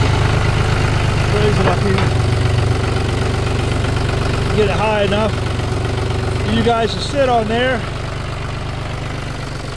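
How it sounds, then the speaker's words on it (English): A tractor engine idles with a steady low chugging rumble throughout, close and loud, while someone talks over it. "Let me start the tractor up here"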